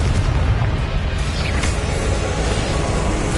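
A Confringo blast spell goes off in a wizarding video game, giving a loud, sustained booming roar that rumbles continuously with no talking over it.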